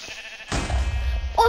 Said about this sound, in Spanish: he encontrado una oveja